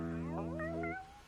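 A cartoon cat gives one drawn-out meow lasting about a second, close and clear with no talking.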